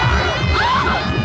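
A woman screams in an audio drama as a weed creature attacks amid bubbling foam, a loud rising and falling shriek over a dense, noisy background.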